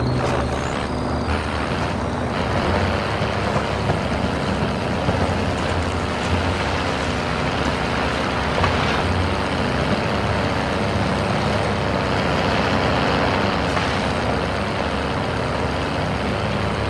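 A vehicle driving in Call of Duty: Modern Warfare, with a dense, continuous engine roar and road rumble holding steady and loud throughout.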